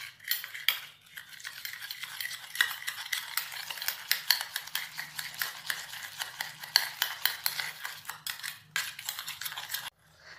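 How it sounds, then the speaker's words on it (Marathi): A spoon stirring a small mixture of lemon juice and salt, making quick rapid clinks against the cup or bowl in a steady rhythm, close and fairly quiet, running without pause for about ten seconds. "आता हे मिश्रण आपण मीठ मिक्स करून घ्यायचं"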